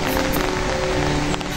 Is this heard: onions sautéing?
no